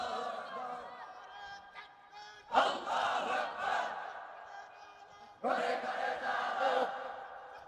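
A large congregation at an Islamic waz sermon roars back the takbir in two loud, full-throated bursts answering the preacher's call, with the preacher's amplified voice leading in between.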